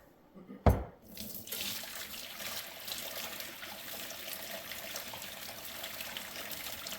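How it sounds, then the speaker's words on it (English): Water splashes and pours steadily into a sink as boiled noodles are drained, after a brief loud thump, a continuous rushing trickle that stays even and close throughout. "Time to pour off the water."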